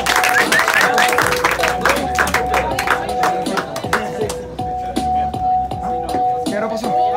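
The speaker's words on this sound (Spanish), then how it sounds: "¡Tiempo, aplauso!" An audience at a freestyle rap battle claps and shuffles, a burst of dense applause at first that thins into scattered claps while a looping beat and some voices continue underneath.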